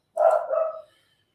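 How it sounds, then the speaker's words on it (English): A single dog bark rings out from somewhere in the background, one short close-sounding woof with a brief tail and no other sound around it. "Idiot dog in the background barking."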